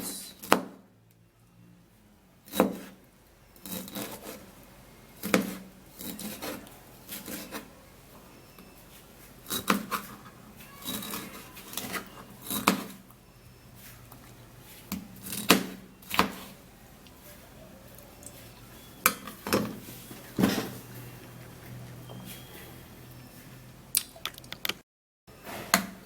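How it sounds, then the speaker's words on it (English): Knife cutting fruit such as pineapple for a blended drink, heard as a series of sharp, separate chops and thuds spaced irregularly, fairly close, with quieter handling sounds between and no talking. "I'll cut the fruits."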